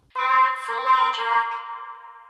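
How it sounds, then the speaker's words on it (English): A single sung phrase processed through two layered vocoders, giving a robotic, harmonically rich chordal voice that fades out at the end. "I really like to give two different types of vocoder for this kind of effects."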